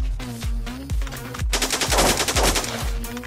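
Rapid bursts of automatic machine gun fire from the first-person shooter game Blockpost, loud and close, with sharp repeated shots in quick rhythm, briefly pausing and resuming over a few seconds.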